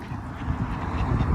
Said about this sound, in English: We've got a goose flying in over there.